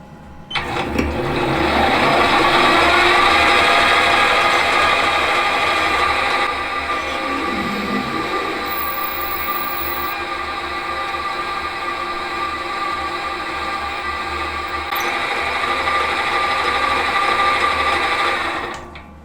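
A lathe or drill press runs with a steady, loud mechanical whine while a drill bit opens a centre-drilled hole in a small metal valve body for a model engine to 9/32 inch, the tone holding constant throughout.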